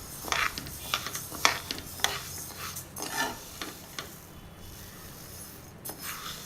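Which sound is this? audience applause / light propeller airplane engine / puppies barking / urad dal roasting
urad dal roasting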